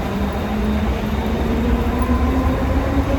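A Navi Mumbai metro train toward Pendhar, heard from on or near the train, gives a steady, fairly loud rolling rumble with a faint tonal hum that holds unchanged for the whole stretch, with no talk.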